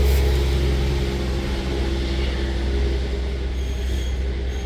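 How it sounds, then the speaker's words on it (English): A heavy log truck rumbles past nearby on a woods road, a loud, steady low roar with a droning engine tone that fades slightly toward the end. "Log truck."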